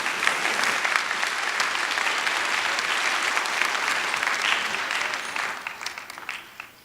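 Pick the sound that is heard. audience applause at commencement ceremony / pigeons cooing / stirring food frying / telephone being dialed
audience applause at commencement ceremony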